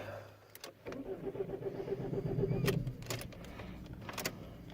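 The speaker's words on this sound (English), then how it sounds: "I'm going to start the car up." A Ford Mondeo Mk4 1.8 TDCI diesel engine starting: the starter cranks with a rhythmic whirring for about two seconds, then the engine catches, with clicks and knocks around it, heard close by.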